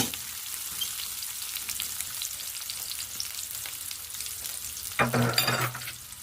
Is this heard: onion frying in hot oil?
yes